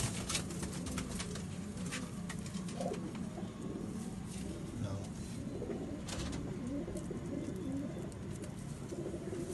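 Pigeons coo at a pigeon flying contest in Faisalabad, soft repeated coos mixed into a busy outdoor wash of insect buzz and crowd murmur, with occasional sharp clicks and thumps.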